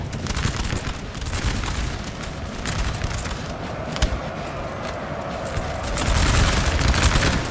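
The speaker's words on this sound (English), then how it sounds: "artillery just absolutely brutalizing this cavalry line" Artillery barrage pounding a cavalry line in Napoleon: Total War, with dense overlapping cannon booms and musket volleys crackling continuously, a distant battlefield roar that swells louder near the end.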